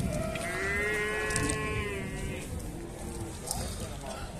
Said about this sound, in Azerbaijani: Bordağa gələn danalardır.